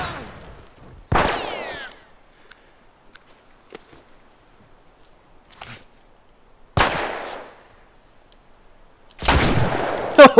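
Gunfire in The Last of Us video game: a few sharp, loud shots separated by stretches of quiet, with faint scattered clicks and footsteps between them and a heavier burst near the end.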